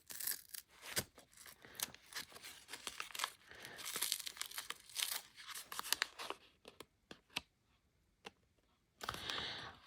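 A paper label is peeled and torn off an auction item in a run of quiet tearing and crinkling rips. The rips come irregularly, fall silent near the end, and then return in one last burst.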